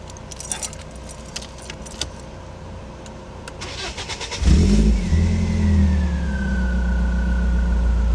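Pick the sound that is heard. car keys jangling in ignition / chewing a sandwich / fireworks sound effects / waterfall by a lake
car keys jangling in ignition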